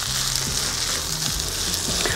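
Rice and vegetables sizzle steadily in hot oil with ginger and garlic while being tossed quickly in a pan, a loud, close, continuous frying hiss with faint scraping of stirring.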